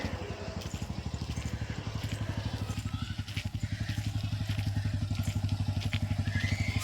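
A motorcycle engine runs steadily and close by with a fast, even pulsing throb from start to finish, parked near a hill temple on the way up to a Murugan shrine.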